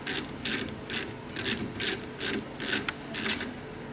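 Metal hand tool loosening a nut on a high-pressure density-viscosity meter, producing a steady series of close ratcheting clicks, about two per second, alone without talk.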